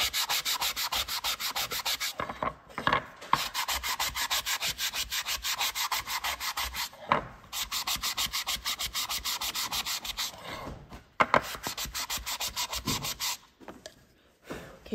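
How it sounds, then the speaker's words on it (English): A sanding block rubs across a painted wooden sign being prepped for repainting, giving close, steady back-and-forth scraping strokes in long runs with a few brief pauses between bursts. "Take your sanding block and make sure that you sand the surface that you're going to be"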